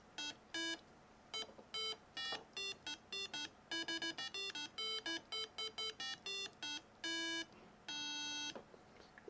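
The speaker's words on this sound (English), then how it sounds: "This is a demo of the Pentatonic piano made with an Arduino, a speaker, a potentiometer for volume adjustment," An Arduino pentatonic piano built with five note buttons and a volume knob sounds clear electronic square-wave tones through a small speaker, a brisk melody of short separate beeps, some held longer, loud and alone.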